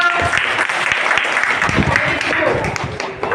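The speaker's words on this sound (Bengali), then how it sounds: "হ্যাঁ লাল দলের জন্য হাততালি দাও।" Children in a classroom clap for the red team, a dense, steady patter of many hands that fills the whole stretch, with young voices mixed in underneath.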